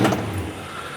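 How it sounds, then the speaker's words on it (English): A 1969 Dodge Coronet 440 with a Chrysler starter cranks and catches, a brief close mechanical whir settling into a low engine rumble. "You could hear that distinctive Chrysler starter sound."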